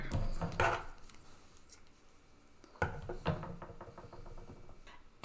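Scissors snip through yarn during a crochet blanket square, with a couple of close, sharp clicks followed by a quiet pause and a second burst of light snipping and handling rattles.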